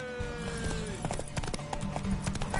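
Horse hooves in The Witcher 3 video game, a brisk clip-clop of hoofbeats close by with rhythmic thuds, joined by faint tonal background sounds from the game.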